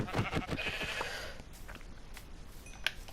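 Several short sheep bleats in Minecraft sound early, fairly close, then fade into a quiet background with a brief beep near the end.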